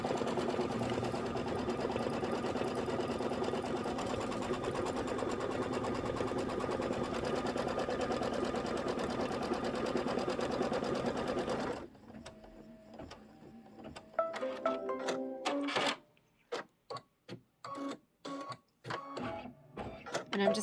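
Embroidery machine stitching a batting tack-down on a Kimberbell quilted bench pillow block, a steady fast mechanical whir for about twelve seconds, then stopping and starting in short bursts with gaps of quiet.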